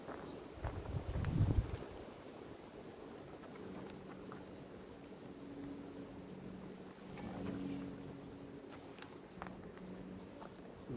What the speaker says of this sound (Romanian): bate vântul